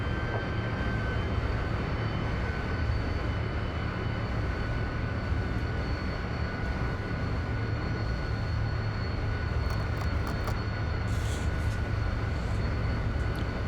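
A Lockheed T-33 jet landing in Microsoft Flight Simulator, its engine a steady, loud broadband roar with a low rumble underneath that holds constant throughout, with no talking.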